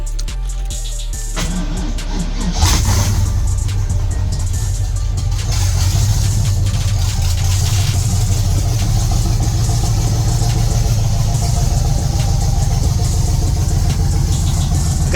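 A 1983 Camaro with an LS engine swap cranks briefly, catches with a jolt, then settles into a loud, steady idle that runs on without a break.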